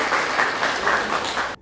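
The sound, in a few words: applause for a classmate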